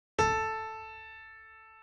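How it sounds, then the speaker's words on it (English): One piano note is struck and left to ring, its clear tone slowly fading away. "Here is the sound of one note on a piano"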